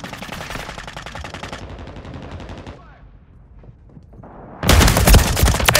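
Gunfire in Call of Duty: Modern Warfare III, with rapid automatic bursts at close range, a brief lull, then a loud burst of heavy shots and blasts.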